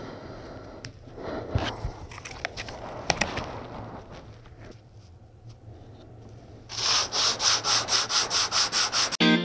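Composite solid foam core sanded by hand, first with irregular scratchy rubbing, then with a steady run of loud, even back-and-forth strokes near the microphone.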